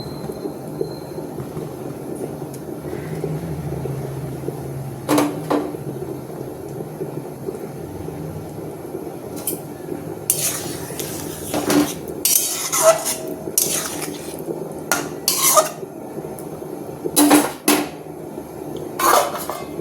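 Fish dropped into a hot pan of oil and spices during home cooking, with a soft sizzle beneath repeated sharp clinks and scrapes of metal utensils against the pan, loud and close, no talking.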